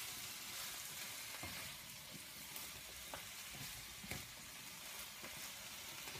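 Broccoli frying in a pan, a steady soft sizzle throughout with occasional stirring scrapes and ticks, close and fairly quiet, no voices.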